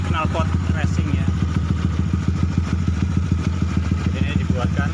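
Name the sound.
Honda Sonic motorcycle engine sputtering at certain rpm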